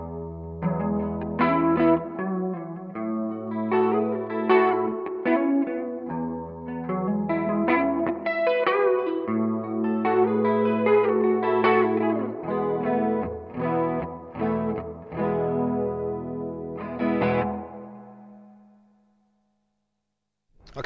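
Chorus blended with reverb on a Marshall Theatre Haze 40 combo guitar amp: a shimmering, slightly overdriven guitar line of chords and single notes plays for about seventeen seconds, then rings out and fades into silence.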